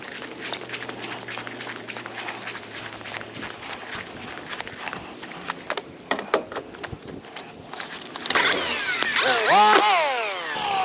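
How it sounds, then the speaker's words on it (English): A DeWalt weed eater, run lightly on the throttle, sits under faint clicks and handling noises before spinning up into a loud, rising whine close by for the last few seconds. "This weed eater works flawless."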